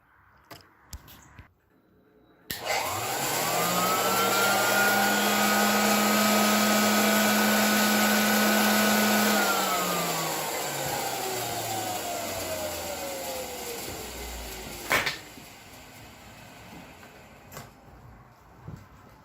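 Motor of a 1923 GE Premier Junior vacuum cleaner starts abruptly, runs at a steady whine for several seconds, then slowly winds down as the pitch falls, with a sharp knock near the end.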